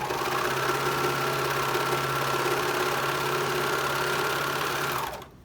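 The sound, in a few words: sewing machine stitching a medical mask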